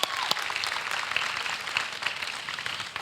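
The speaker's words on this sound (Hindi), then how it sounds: "ताली एक बार बजा देते हैं" Audience applause at a Diwali television interview event, a dense steady patter of many hands clapping continuously for about three seconds, moderately loud with no voices on top.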